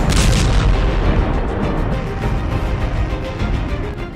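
Missiles from an Iranian attack on Israel explode in deep, rumbling booms, loud and heavy at first, then fading into a continuous low roar with scattered distant blasts.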